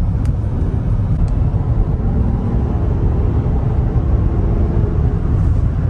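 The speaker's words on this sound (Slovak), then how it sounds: "Teraz som dal asi pol plynu" Rolls-Royce Cullinan SUV engine at about half throttle on a sand dune: a steady, smooth low rumble with dense broadband road and wind noise, continuous and fairly loud, no voices.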